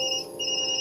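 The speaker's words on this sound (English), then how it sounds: "That's my phone." A mobile phone rings in the video game Tokyo Dark. The brief electronic ringtone switches between two high tones and plays quietly on its own.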